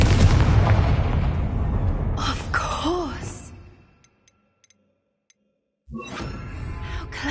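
An explosive Confringo spell bursts in the Hogwarts Legacy video game, a loud booming blast that decays over a few seconds with whooshing magical tones, then near silence before another burst begins.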